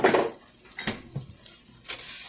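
Tomato paste cooking down in a soup pot with a soft sizzle, while a spoon stirs and scrapes against the pot in a few short strokes; close and fairly quiet, with no voices.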